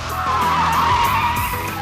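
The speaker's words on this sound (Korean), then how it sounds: "평균적인 속도에서 사이드 브레이크를 당기면 뒷바퀴가 잠기면서" A car skids as the handbrake locks its rear wheels, giving a loud, steady tire squeal and scraping rush that holds for the whole short stretch, with no voices.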